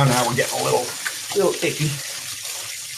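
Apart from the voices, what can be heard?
rinsing chicken under the tap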